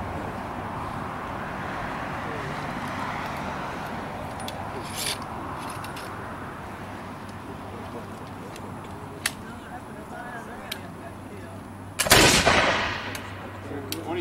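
A firearm is fired during a timed demonstration, a sharp loud report near the end after a long stretch of quiet outdoor rustle and faint voices.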